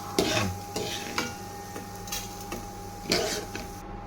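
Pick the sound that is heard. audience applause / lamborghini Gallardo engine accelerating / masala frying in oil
masala frying in oil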